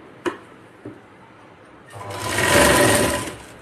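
Stitching a blouse sleeve, a sewing machine whirs up to a steady, loud run after two soft clicks of handling the fabric, with no talking over it.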